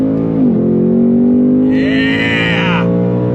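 A 2021 Ford Mustang Mach 1 V8 with an automatic gearbox pulls hard on throttle, a loud, steady engine drone rising in pitch with a brief dip near the start, close and continuous with no talk.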